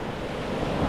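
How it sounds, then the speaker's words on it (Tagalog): Ocean waves breaking and washing up at Pompano Beach, Florida, a steady, close surf roar mixed with gusts of wind buffeting the microphone, with no voices. "Ganda ng alon."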